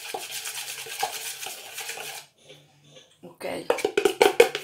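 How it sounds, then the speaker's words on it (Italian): A utensil stirs flour and baking powder in a bowl, giving short rhythmic scraping strokes that come in bursts with a pause in the middle and grow louder toward the end; a person speaks during the stirring. "il lievito all'ultima farina rimasta, ok, e lo mescolo un pochino"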